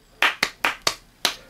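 Five sharp hand claps ring out close and alone, spaced irregularly and quickly across about a second and a half.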